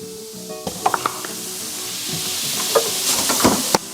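Carne asada sizzles in a hot pan, a steady frying hiss that builds after the meat drops in, with a few metallic clinks of utensils against the pan.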